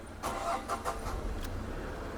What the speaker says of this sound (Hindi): भैया जी हमारी गाड़ी सक्सेसफुली स्टार्ट हो गई।